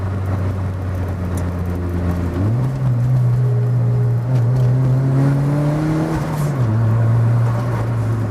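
A turbocharged ninth-generation Toyota Corolla Altis pulls hard and steady, its engine pitch climbing through a gear shift and rising again, loud and close with no talking.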